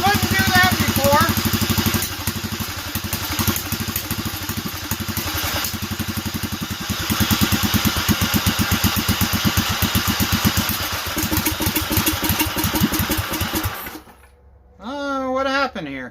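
A DuroMax 440cc engine fitted with an upgraded jet runs steadily with the choke wide open, giving a loud, continuous rhythmic chugging that cuts out near the end, followed by a short burst of voice.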